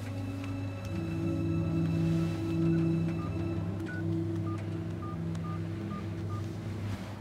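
A borrowed mobile phone is dialed, producing a run of short, evenly spaced keypad tones over a steady low background hum, with no speech.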